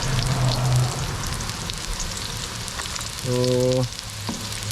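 Onions sizzle and fry steadily in a pan while chicken and pork adobo is cooked, with a continuous crackling hiss, occasional stirring, and a brief word of speech at the start.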